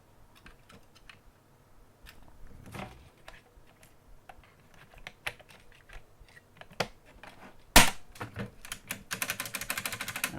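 Keys being refitted onto a buckle spring keyboard and pressed, starting with the space bar: sparse, crisp clicks and clacks near the mic, growing denser toward the end with one loud snap.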